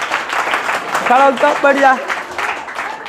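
Students in a classroom clap together in a burst of applause, mixed with a teacher's voice speaking over it.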